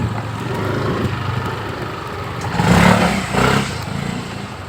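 Motorcycle engine revving as the rider pushes through a tight passage, a loud close rumble with two throttle surges swelling midway and clattering mechanical noise throughout.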